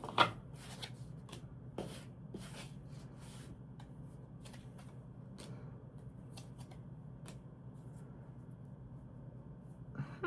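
An oracle card deck gets shuffled by hand, with a series of soft papery riffles and taps, close and fairly quiet, over a low background hum.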